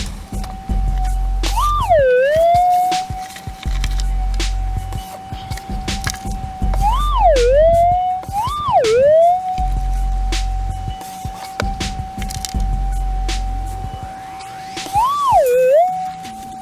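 A steady electronic tone from a Minelab GPX-4500 metal detector, repeatedly warbling into sharp dipping chirps as it passes over a gold nugget target, with soft rustling underneath.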